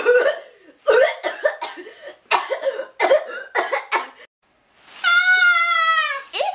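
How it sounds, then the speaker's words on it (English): Several short, bursting coughs in quick succession, close and fairly loud, followed after a pause by a higher drawn-out vocal sound. "Start coughing."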